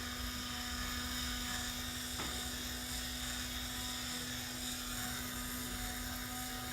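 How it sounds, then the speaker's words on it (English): The small electric motor of a Vinowake Openero wine opener whirs in a steady, high whine, close and constant throughout, with one brief click partway through. "now you'll hear that the corkscrew"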